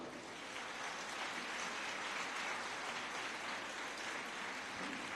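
A church congregation claps together in dense, sustained applause that holds at an even level from start to finish, heard from a distance without speech.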